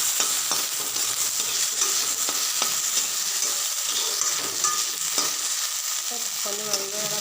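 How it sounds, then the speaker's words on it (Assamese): Okra fries in a pan with a bright, steady sizzle, broken by sharp clicks and scrapes of stirring, close up and without speech. "মই ইয়াত দি দিলোঁ ভেন্দিখিনি, আৰু ভেন্দিখিনি অলপ সময় ভাজি লওঁ।"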